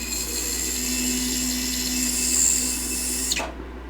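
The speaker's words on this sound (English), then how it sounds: "Make your cut, keep the burr running, and then pull away." A jeweller's rotary burr runs at high speed while a purple oval sapphire is set in a four-prong basket, a loud steady whine that spins down sharply near the end, close and alone.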